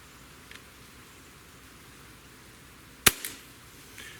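A single sharp crack from a CO2-powered Glock 17 Gen5 air pistol firing a wadcutter pellet rings out once, with a small thump just after, against quiet room tone.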